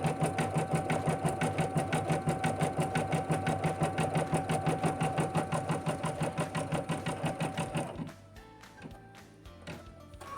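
An embroidery machine sews fabric for an in-the-hoop rattle project, its rapid rhythmic needle stitching loud and even for about eight seconds before stopping, followed by a few soft mechanical clicks.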